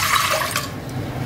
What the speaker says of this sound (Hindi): यहाँ पर मैं 2 गिलास पानी लूंगी एक पैन में